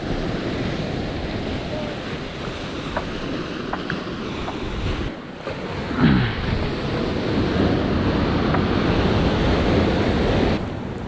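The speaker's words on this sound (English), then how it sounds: "Starting our day off with some waves." Ocean surf breaking near rocky shore, a steady roar of waves with heavy wind buffeting the microphone, one louder wash swelling midway, no voices heard.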